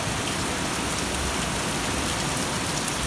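Steady moderate rain pours onto a garden of plants, a dense continuous hiss of drops on leaves and surfaces, even in loudness with no voices.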